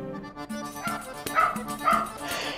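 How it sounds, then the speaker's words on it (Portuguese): A dog barks close by in a street neighbourhood, a few sharp yipping barks in quick succession, loud and dominant. "Cala a boca, cachorro."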